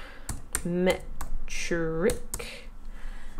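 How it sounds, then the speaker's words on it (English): Keys on a computer keyboard clatter in short bursts of taps beneath someone talking, entering a search term into an online shop search bar. "if I type in geometric"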